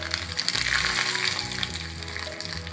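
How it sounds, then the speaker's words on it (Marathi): Hot mustard seed tempering poured onto cucumber yogurt raita gives a loud, continuous crackling sizzle close by, lasting the whole moment without any talk. "आता ही फोडणी रेडी झाल्यानंतर आपण हे रायत्यावर घालूया"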